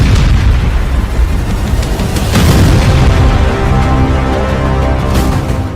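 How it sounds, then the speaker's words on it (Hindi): Serial blasts tearing through a weapons depot, a continuous loud rumbling roar of chained explosions with repeated sharp bursts and pops layered on top. "फिर सीरियल ब्लास्ट"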